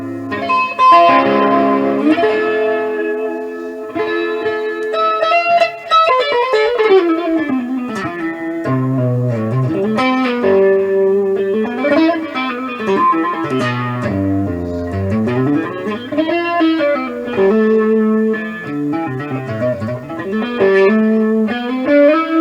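Clean electric guitar, a Jackson, with distortion off and a shimmering chorus effect, melodic lines and chords ringing out, loud and close, played alone without talking.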